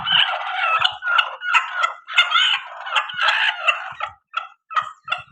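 A broody hen clucks and squawks in agitated bursts close by, a run of loud, uneven calls with brief pauses between them.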